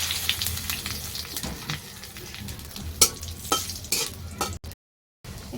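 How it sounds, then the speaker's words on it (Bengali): Oil crackles and sizzles as cumin and bay leaves fry, with a few scrapes from stirring and a brief dropout near the end. "আমার হাতে জিরা আছে আলু ভাজার তেলের মধ্যে এখন ছেড়ে দেবো জিরাটা"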